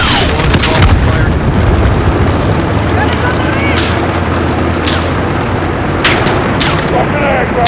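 Air strike explosions in the Modern Warfare video game boom and rumble continuously through a dense barrage of blasts and gunfire, with radio chatter layered over the din.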